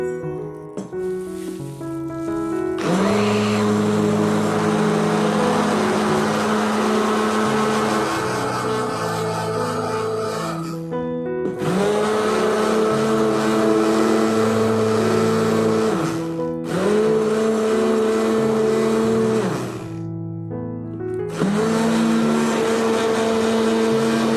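A blender whirs through a homemade rice body moisturizer in several loud bursts, its motor whine rising and settling with short pauses between runs.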